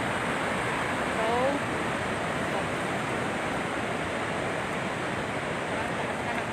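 Water roars steadily through the five fully opened spillway gates of the overflowing Angat Dam, a dense, continuous rushing wash with no break in level from start to finish.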